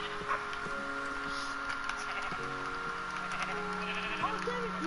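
Minecraft sheep bleat several times, short wavering baa calls close by and repeated through the game's background sounds.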